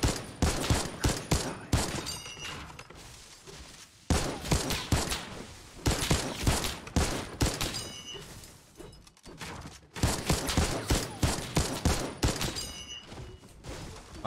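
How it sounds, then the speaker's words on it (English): Rapid automatic fire from a new infantry rifle in a multiplayer shooter video game, loud sustained bursts of sharp cracks with brief pauses between about four long volleys. "It's kind of like shooting this gun because it reminds me of the drum gun."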